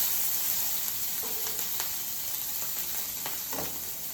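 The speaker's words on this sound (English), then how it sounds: "So we're going to add a little bit of olive oil to our pan. The pan is already hot. We're going to add our peppers." Bell peppers sizzle steadily in olive oil in an already hot pan, a constant close hiss with occasional brief stirring scrapes and pops, no talking.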